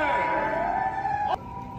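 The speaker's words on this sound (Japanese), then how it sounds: "おーい、救急車来てるぞ" An ambulance siren on a city street at a crossing, sustained and loud with a steady wailing tone that cuts off sharply near the end, heard up close over traffic noise.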